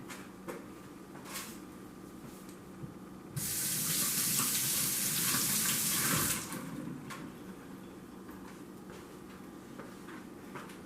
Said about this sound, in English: I'm just gonna rinse my hand here.